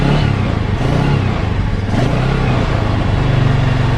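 A motorcycle engine is revved as the throttle opens during a battery charging check, a loud, steady roar that rises and falls in pitch with the throttle, with no talking.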